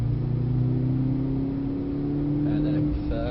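Mercedes-AMG C63 S engine accelerating on a track, a steady loud drone rising slowly in pitch as power builds, with a voice speaking briefly near the end.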